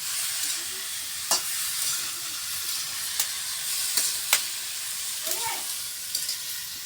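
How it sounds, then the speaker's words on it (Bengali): Egg curry sizzling and frying in a pan on a village stove, a steady close hiss broken by a few sharp clinks and scrapes of stirring. "আর একটা তরকারি ডিম চুলাই বসাইছি"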